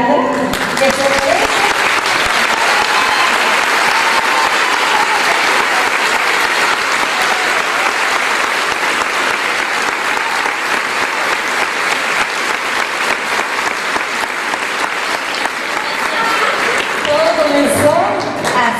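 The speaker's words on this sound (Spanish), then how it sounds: "me gustaría que aplaudamos más fuerte todavía a Alejandra." Loud, sustained audience applause at a conference in Chaco, Argentina, a dense, even roar of many hands clapping close by that carries on without a break for nearly twenty seconds.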